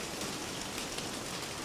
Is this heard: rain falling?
yes